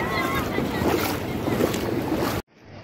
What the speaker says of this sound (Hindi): समुद्र का पानी नीचे आ रहा है, जो वापस जा रहा है पैरों से